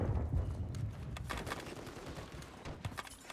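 Video game STG assault rifle and SMG firing at a shooting range, a dense rapid string of automatic gunfire bursts, steady and fairly loud throughout the short stretch.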